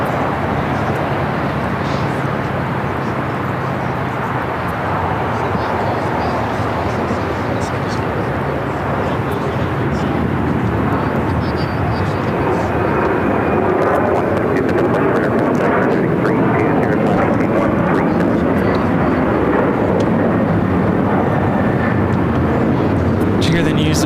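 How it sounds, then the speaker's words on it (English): Air China Boeing 777-300ER airliner engines roaring as a continuous loud broadband rumble that builds slightly over time, with people talking over it throughout. "you just Air China 777-300ER heading to the north side."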